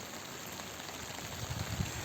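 Steady rain falls in a rural village, a soft continuous hiss of drops with faint low patters growing slightly heavier toward the end, no talking.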